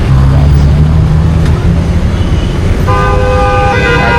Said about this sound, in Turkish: Bayağı bir kullanılıyor korna burada.